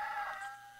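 A rooster crows in a short burst, fairly close and moderately loud, with a bright sustained call that fades toward the end.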